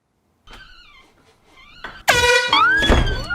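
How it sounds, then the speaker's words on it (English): A loud, blaring air horn blast bursts in after a couple of seconds of quieter sounds and holds, harsh and sustained, until the end. "Put the air horn down"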